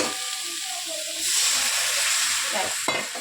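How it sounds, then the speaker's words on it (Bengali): Water splashed into a hot pan of mixed vegetables for a Bengali helencha shukto flares into a loud, steady sizzling hiss that swells midway and ends with a brief bubbling burst, with no one speaking. "পরিমাণ মতন জল দিয়ে দিল"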